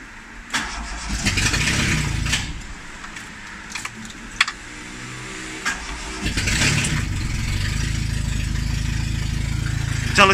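A turbocharged Tofaş car out of fuel cranks and catches, its engine revving unevenly with sharp clicks and rattles, then dying and restarting into a steady rough idle.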